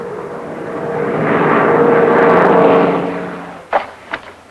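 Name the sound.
Douglas A-26 airplane engine in flight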